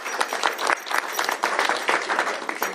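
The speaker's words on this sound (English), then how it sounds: "Please give her a round of applause as we sign this into law." A room of people applauds at a governor's bill signing ceremony, a steady close wash of many hands clapping in uneven pulses throughout, with no talk over it.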